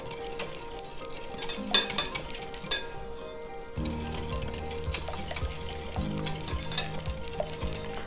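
Pasta carbonara with pancetta stirred in a pan, a steady soft scraping and sizzling with occasional utensil clinks against the pan, fairly quiet and close, with no voice.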